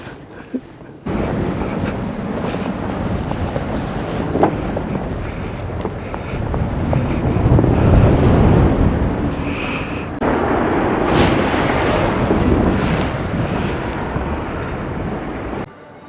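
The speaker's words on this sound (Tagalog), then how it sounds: "Grabe. Ang hangin." Strong wind roars in a Hokkaido snowstorm, buffeting the microphone in loud, continuous gusts that swell and ease for several seconds, with no talk over it.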